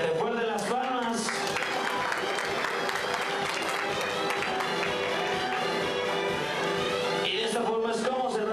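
Audience clapping at a conference event in Mexico, a steady, sustained wash of applause from a large crowd, fairly distant and even, with a voice briefly audible at the start and end.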